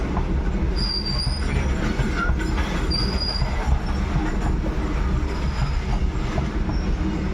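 A train runs along the railway, loud and close, with a constant heavy rumble and intermittent high wheel squeals through the whole stretch.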